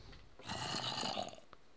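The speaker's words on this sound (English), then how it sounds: "I can hear a zombie." A Minecraft zombie groans once, a low rasping snore-like moan lasting about a second at moderate volume, fading into quiet game ambience.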